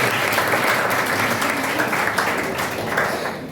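Students at an NSS camp give a round of loud, dense applause that stays steady at close range and then tapers slightly near the end.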